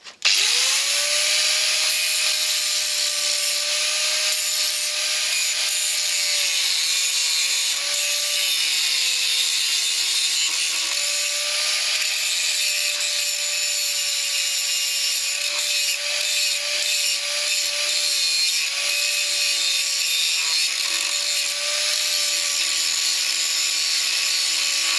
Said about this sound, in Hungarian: Na, akkor ezt a részt flexel áttolom.